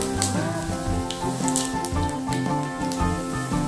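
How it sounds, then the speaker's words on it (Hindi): Cumin seeds sizzle steadily in hot oil in a home kitchen while guava curry is being made, a soft continuous crackle under a background music bed. "ऑयल गर्म हो गया है, अब इसमें एक चम्मच जीरा"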